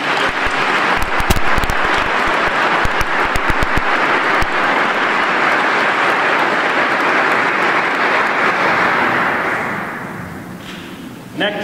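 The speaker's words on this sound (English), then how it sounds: "How about a round of applause to show them?" A church congregation at a Christmas midnight Mass bursts into sustained applause, dense and loud, a few sharp claps at the start, then fading out near the end.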